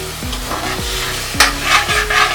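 Soy sauce going into sizzling Andhra-style chilli chicken in a pan, a loud close hiss and crackle under repeated stirring scrapes and knocks, with a burst of sizzle midway.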